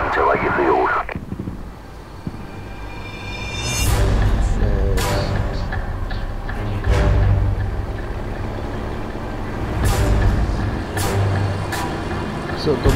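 Enemy military convoy trucks rolling in Call of Duty 4: Modern Warfare, six vehicles in the group. Heavy engines rumble steadily, with sharp air-brake hisses at intervals and voices talking over the traffic.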